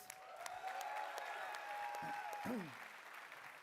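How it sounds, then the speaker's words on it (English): An audience at a large EA E3 2017 conference applauding for a drumline. The clapping is steady and fairly faint and spreads over the whole clip, with a faint tone sounding over it. "Round of applause for the drumline, guys."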